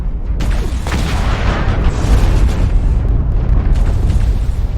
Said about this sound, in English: There are missiles going off somewhere